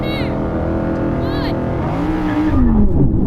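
Powerful Audi engines, including an R8, RS3, RS6, RSQ8 and RS5 alongside an electric RS e-tron GT, roar and rev hard as the cars launch together in a drag race, loud and close, pitch climbing as they accelerate; a voice is briefly heard.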